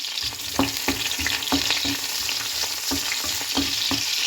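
Vegetables fry in a pan for Kerala-style sambar, a steady close sizzle broken by regular spatula taps and scrapes roughly every half second, with no voices.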